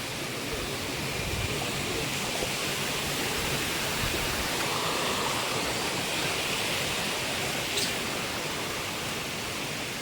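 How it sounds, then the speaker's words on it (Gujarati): Jatashankar waterfall near Junagadh rushes in rainy weather as a steady, loud, broadband roar of falling water that fills the whole clip with no voices. "ધોધ અત્યારે ચાલુ થઈ ગયું છે ને પાણી જઈ રહ્યું છે।"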